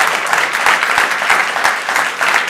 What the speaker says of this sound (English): A big round of applause for everyone on stage.